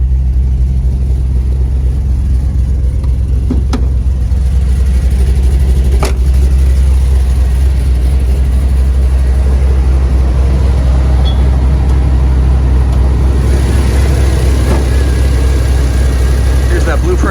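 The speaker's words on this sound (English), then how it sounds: "Here's that Blueprint Engines 383 stroker. Has Hedman headers, runs very nicely." A Blueprint Engines 383 stroker V8 with Hedman headers, in a 1984 GMC Jimmy Sierra Classic, rumbles loud and close in a steady deep idle with heavy low-end throb for the whole stretch.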